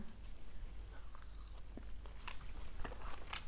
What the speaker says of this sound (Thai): อ้อยเอามากินกับ ลาบงัวเบิ่งเนาะค่ะ